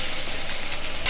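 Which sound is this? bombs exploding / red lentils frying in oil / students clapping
red lentils frying in oil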